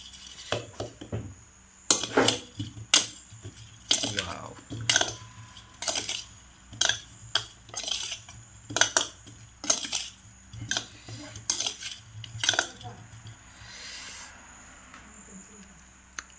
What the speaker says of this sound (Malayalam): ഇനി നല്ല പോലെ ഒന്ന് ഇളക്കണം കേട്ടോ